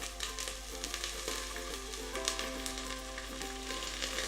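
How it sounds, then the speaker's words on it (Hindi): Steady crackling sizzle of tempering spices and sliced chilies frying in hot oil, dense and close, with a low constant hum underneath and no voices. "तड़का एकदम तैयार हो गया।"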